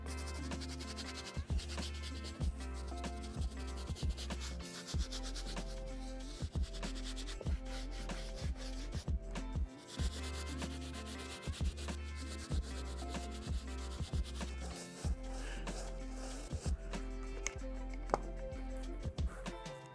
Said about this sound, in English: Using the medium bristle brush, I'm really gonna focus on this midsole and some deeper stains